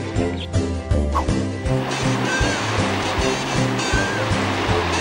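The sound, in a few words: Pacific Ocean waves at Cardenal Caro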